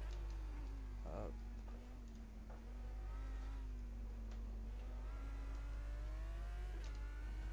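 Audi race car engine at Spa in a racing video game, a steady droning note that rises slightly and holds through the lap, with a brief burst of noise near the start.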